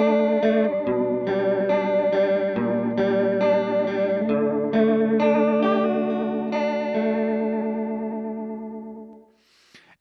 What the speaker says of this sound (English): Preset number five here is more of a kind of a vibrato sound.